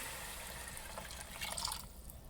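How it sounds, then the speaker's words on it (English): Coconut milk pours into a pot in a soft, steady liquid stream for a couple of seconds, quiet and close, with a slight splash near the end. "let's pour our coconut milk in"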